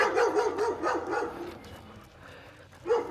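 A dog at a state park campground barks excitedly at squirrels in quick repeated bursts, loud and close, with yips between barks.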